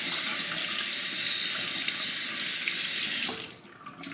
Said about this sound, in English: I'm gonna rinse off all the slurry on the stone